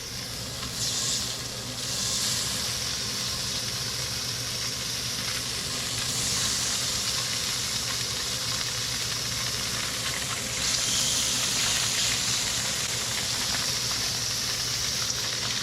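Sheepshead fish fillets fry in butter and seasoning in a pan, giving a steady, close sizzle and hiss that swells slightly in places. No one speaks.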